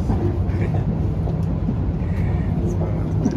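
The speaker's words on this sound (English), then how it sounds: "Train sudah ada, train sudah sampai." An ETS electric train pulls into a station, a low, continuous rumble of rolling carriages with faint higher squeals on top, heard close and fairly loud, with some people talking in the background.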